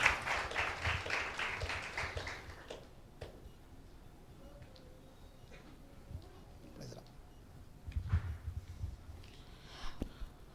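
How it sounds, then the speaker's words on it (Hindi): Church congregation clapping together in loud applause for about two and a half seconds, then fading into quieter room noise with scattered faint sounds and a brief later swell. "एक जोरदार ताली देंगे परमेश्वर की महिमा के लिए"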